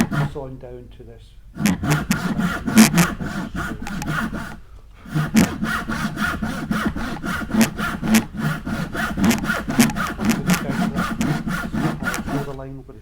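A push saw rasps through a piece of timber in fast repeated strokes, close and loud, pausing briefly near the start before resuming steadily, with a voice talking over parts of it.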